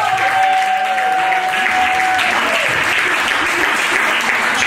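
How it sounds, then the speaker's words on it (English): An audience at a fundraiser dinner breaks into dense, sustained applause that fills the room at close range. The clapping holds steady to the end, with a thin tone briefly sounding at the start. "If we could have one more round of applause for Diane."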